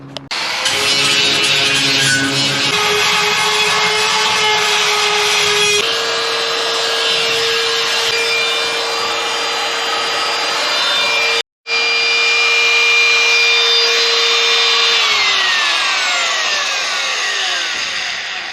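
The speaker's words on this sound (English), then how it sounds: "So let's get to grinding. We'll do a couple more shots of some sparks" A die grinder working on metal on a trash compactor being turned into a pool, with a loud, close, sustained high whine and grinding rasp, a brief cutoff partway through, then a steady pitch that sags as it winds down.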